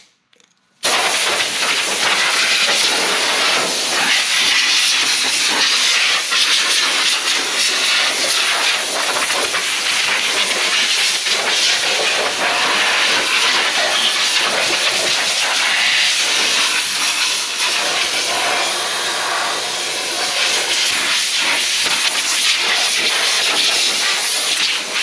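Compressed air blasts steadily over a generator to clear off dust, a loud, continuous hiss that starts after a brief pause and runs unbroken for the rest of the clip, close to the microphone with no talking.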